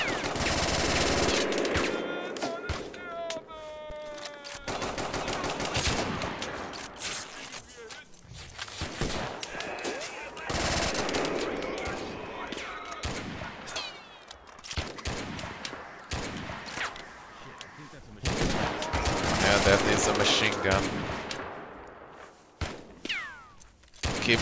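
Machine gun fire in the wartime video game Mud and Blood, dense repeated rattling bursts and scattered single shots overlapping in a chaotic battle, with a voice talking intermittently over the gunfire.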